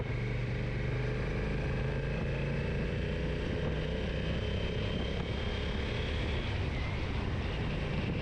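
A Honda NT1100 motorcycle engine pulling steadily at low revs, a constant deep drone with rumbling low end and wind roar throughout, loud and close, with no talk over it.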